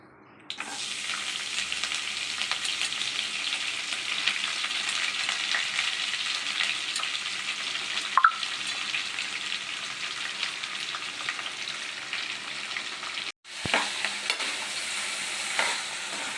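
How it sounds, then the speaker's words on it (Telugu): Chopped cabbage, beans, carrot and green peas fry in a pan with a loud, continuous sizzle and stirring scrapes, with one brief drop in sound near the end and no talk. "ఇలా అన్నీ వేసేసి ఫ్రై చేసుకోవాలి"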